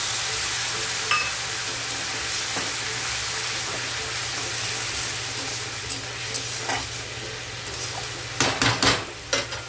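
Hot pan of tomato and spices for a jackfruit curry, sizzling steadily and loudly close by, with a few utensil clinks and stirring knocks clustering toward the end; no talk.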